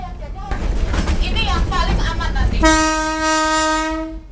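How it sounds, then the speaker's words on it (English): Horn of a historic train at an unprotected level crossing on the Ambarawa railway, blasting one long, loud, steady sustained blast after a stretch of talk and rumbling rail noise. "the horn is used profusely to inform road users that we are approaching at a snail's pace"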